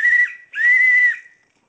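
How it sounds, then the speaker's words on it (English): A pea whistle with a small ball inside, from an emergency kit, gives two loud shrill toots, a short blast followed by a longer one with a trilling warble, up close and alone. "You got a pee whistle with a little ball in it. It's pretty loud. Give you a little toot here."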